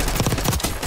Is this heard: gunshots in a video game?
yes